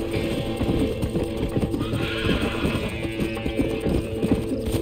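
A horse in the Red Dead Redemption video game neighs and whinnies loudly, with clip-clop hoofbeats and dense game sound underneath, steady throughout with no talk.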